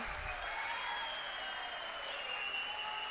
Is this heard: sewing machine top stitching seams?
no